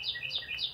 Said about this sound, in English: She's very happy, that bird.